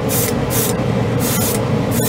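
Mr. Hobby Aqueous Gundam paint being airbrushed onto plastic: a loud, close, continuous hiss with several short bursts and brief pauses between passes.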